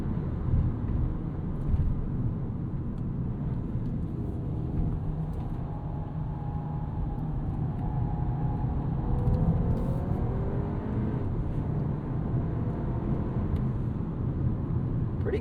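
2026 Audi Q3 compact SUV's turbo engine accelerating out of a corner, a steady low drone and road rumble with a subtle rising engine tone, heard from inside the cabin without talk.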